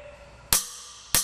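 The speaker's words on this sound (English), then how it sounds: "Now that is the sound of a healthy afterburner igniter." An afterburner torch igniter plug on a J79 jet engine fires during a ground spark test: two sharp, loud snapping cracks about half a second apart, each decaying quickly over a steady background hiss.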